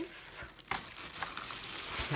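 A sealed plastic bag holding ribbons and buttons crinkles up close in a few quick bursts of crisp rustling, with one sharper crackle partway through.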